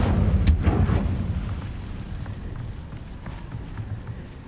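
Incendio fire spell cast in Hogwarts Legacy, a loud burst of whooshing flame and booming impact near the start that fades into a lingering, crackling rumble.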